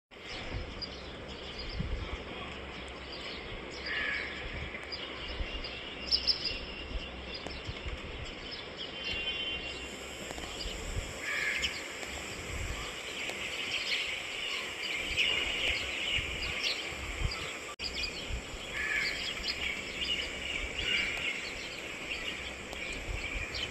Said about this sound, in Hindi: देखा आपने चिड़ियों का चहचहाना?